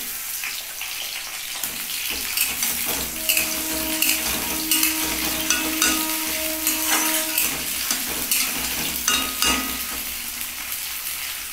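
Onion and potato fry in a pan, a steady hiss of oil with occasional crackles and stirring scrapes, moderately close and without talk.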